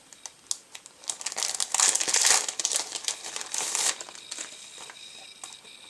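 A sticker is pulled off and the excess trimmed, with close, crinkly rustling and peeling of paper that swells in the middle and then fades to small scattered taps and clicks, with no talking.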